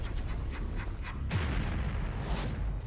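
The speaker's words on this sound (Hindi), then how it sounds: "जो धमाके आप देख रहे हैं" A heavy, rumbling blast booms out amid continuous roaring noise, like distant explosions or artillery fire echoing across open ground.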